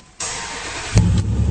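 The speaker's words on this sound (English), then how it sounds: "Fires right up, you can hear that dual exhaust." A 2003 Dodge Ram 1500 pickup with a Hemi engine and dual exhaust starts with a brief crank, then catches and settles into a loud, steady idle, heard up close with no talking.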